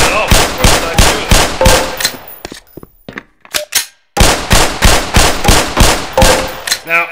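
Pistol shots at a firing range on a video game hazard course, a rapid series of loud, sharp reports in two bursts separated by a brief pause with some clicks and handling sounds.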